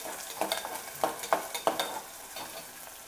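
Green chillies and ginger-garlic paste fry in a pan for a ridge gourd masala curry, a steady close sizzle broken by several sharp stirring scrapes in an uneven rhythm, with no talk.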